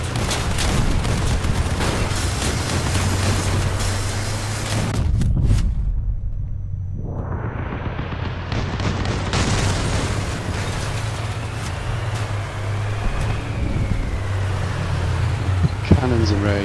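Cannon blasts and weapon fire in the vehicle combat game Crossout during a raid, loud and repeated bursts with a heavy explosion near the middle, someone talking over much of it.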